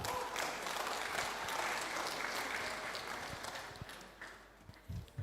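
Audience applause greets a speaker invited to the stage at a conference, a dense steady wash of clapping that tapers off toward the end.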